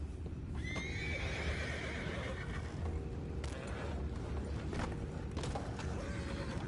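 In the video game Red Dead Redemption 2, a horse lets out a clear, high whinny early on, followed by hooves clopping and creaking, clattering movement in a busy background.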